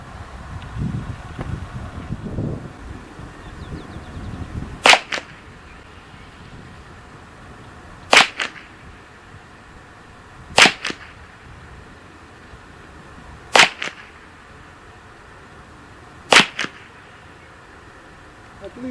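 A Ruger 10/22 rifle fires CCI Standard Velocity .22 ammunition at a 50-yard range. Five sharp, evenly spaced shots crack out over a breezy outdoor background, after brief low rumbling at the start.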